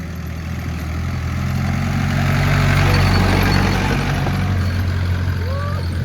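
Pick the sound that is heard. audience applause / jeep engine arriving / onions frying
jeep engine arriving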